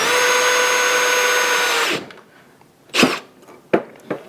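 A power drill drives a screw into a countersunk hole in a reloading tray, whining steadily for about two seconds before stopping. A few sharp knocks and handling clicks follow.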